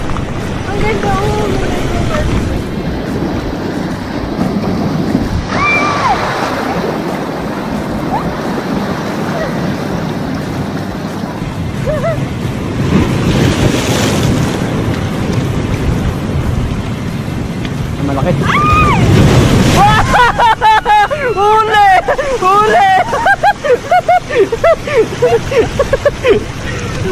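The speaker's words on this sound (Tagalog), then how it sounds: "Lakas ng alon." Strong ocean waves surge and break near a boat off Colibra Island in Dasol, loud and rushing with wind buffeting the microphone, while people talk over the water noise.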